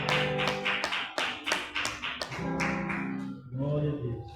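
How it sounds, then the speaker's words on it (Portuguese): A church congregation claps in quick, even rhythm during a lively Portuguese-language worship service, the sharp claps loud and close over sung voices. "Mais alegre as palmas para Jesus"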